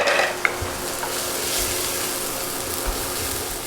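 Meatballs frying in a pan give a continuous soft sizzle with a faint crackle, broken near the start by a brief utensil clink and a few low knocks.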